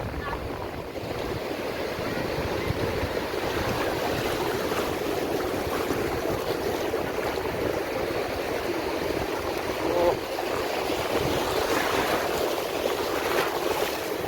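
Sea waves wash steadily at Bakkhali beach at high tide, a continuous broad roar of surf with wind noise on the microphone and no clear breaks.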